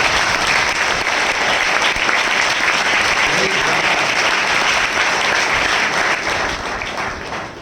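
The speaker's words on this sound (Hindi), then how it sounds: "ऊपर वाले के नाम से एक जोरदार ताली।" A church congregation claps loudly in praise, a dense and sustained roar of applause that fills the whole stretch and eases off slightly at the end.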